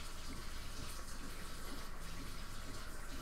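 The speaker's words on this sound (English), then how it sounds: "I hear water." Water runs steadily like a bathtub filling in a Roblox obby game, a constant even hiss and splash that stays moderately quiet with no talking.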